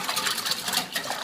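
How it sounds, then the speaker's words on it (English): Steady, fast whisking of vanilla extract into buttermilk pancake batter in a bowl, a bright continuous scraping rattle heard up close and without talk. "Whisk this together."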